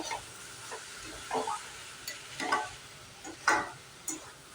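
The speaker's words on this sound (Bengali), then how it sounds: "ভালো করে একটু ভেজে নেব" Bottle gourd (lauki) curry frying in a pan after its water has cooked off: a soft, low sizzle broken by several short spatula scrapes and stirs at irregular intervals, close by with no talking.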